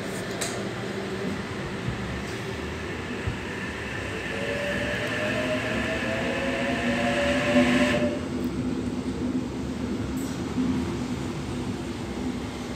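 An eight-car electric passenger train pulls out of Kiama station, a steady rolling rumble with a rising motor whine that builds and then eases off.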